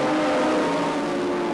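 Racing motorcycles at a 1988 British Superbike race, Hondas leading into the Lake S's, roar past as a steady, loud, high engine drone that holds level throughout without any speech.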